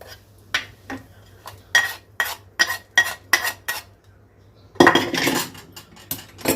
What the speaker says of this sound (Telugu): ఇది వేసుకొని కొంచెం స్మూత్గా కలుపుకోవాలి.